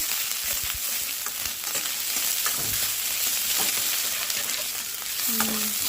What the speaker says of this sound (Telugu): ఎండుమిర్చి పచ్చిమిర్చి వేసుకొని ఇంటికి బాగా ఫ్రై చేసేసుకున్నామండి